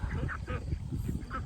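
A flock of ducks quacking near and loud, repeated overlapping quacks in a busy, continuous chorus.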